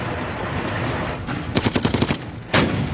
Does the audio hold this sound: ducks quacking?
no